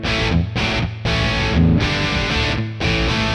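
Heavily overdriven electric guitar chords ring out from the amp's dirty channel, switched on by a NUX Cerberus pedalboard, in repeated strummed bursts with short gaps, loud and steady throughout.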